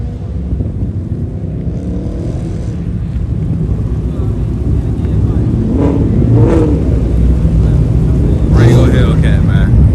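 A Dodge Durango Hellcat engine rumbles loudly at a car meet, a deep continuous roar that swells toward the end, with people talking over it.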